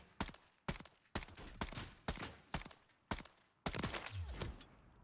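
Seven rapid, evenly spaced gunshots from an M13B rifle in a video game, each a crisp close crack with a short tail, the last few bunched tighter before a brief trailing echo.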